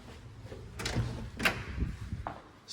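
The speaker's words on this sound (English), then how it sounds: "upon opening the door" A house's front door opens with a few soft thumps and a brief latch or rattle, fairly close, in a quiet indoor space.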